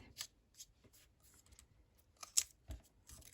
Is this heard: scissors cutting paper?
yes